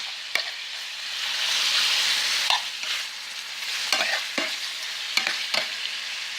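Chorizo sausage sizzles steadily in a frying pan, a continuous hiss broken by a few sharp scrapes and clicks of stirring; no talking.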